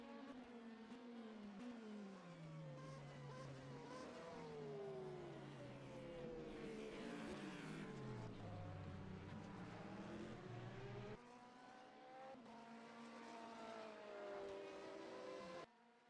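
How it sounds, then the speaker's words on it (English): An Oreca LMP2 prototype race car in a racing video game screams past, its engine pitch sweeping high then dropping through the gears as it goes by, with other engine tones layered in the background. "There goes one of the LMP2s. That's an Orca, if you can't tell."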